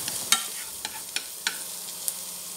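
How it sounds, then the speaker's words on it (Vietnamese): Garlic frying in hot oil in a pan for a stir-fry of grey oyster mushrooms and pork, giving a soft, steady sizzle with a few sharp ticks and pops, heard alone. "đợi dầu nóng cho tỏi vào phi thơm"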